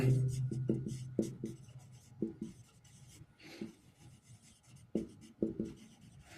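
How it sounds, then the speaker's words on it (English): Marker or chalk writing on a classroom board, with short scratchy strokes in irregular bursts, fairly close, under a low room hum. "I'll write 3 things there."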